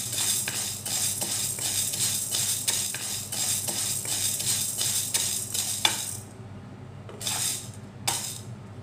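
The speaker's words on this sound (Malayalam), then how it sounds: "പയറിൻ്റെ പച്ചമണം മാറി ഒന്ന് ചൂടായി വരുന്നിടം വരെ നമുക്ക് വറുത്തെടുക്കാം" Lentils roast dry in a kadai for parippu curry, stirred with a series of rhythmic scraping, rattling strokes close by, then a quieter pause broken by two more scrapes.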